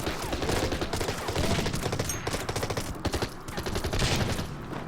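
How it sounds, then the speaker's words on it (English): Dense battlefield barrage in a World War II strategy game, Order of Battle, with artillery shelling and Stuka dive-bomber bombs: a continuous loud roll of overlapping booms and crackling bursts, with no talk. "the Stukas will provide bombs, and the artillery will fire as well"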